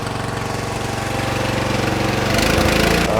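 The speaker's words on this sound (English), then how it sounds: "Let's run the engine on up a little faster." A lawn mower engine rigged to power an emergency generator chugs close and loud in a steady rhythmic putter, then revs up faster and louder near the end, with no voices over it.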